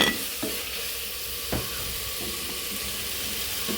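Chopped tomatoes going into a sizzling pan for chicken curry, a loud hiss of frying with a few sharp stirring clunks against the pan, close and continuous.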